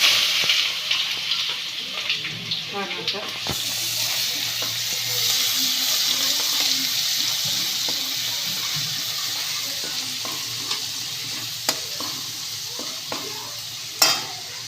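Cumin and mustard seeds sizzle steadily in hot oil while a spoon stirs and scrapes the pan, with occasional sharp clinks against the metal and no talking over the cooking.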